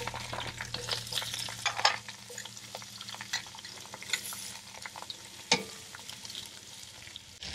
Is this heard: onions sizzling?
yes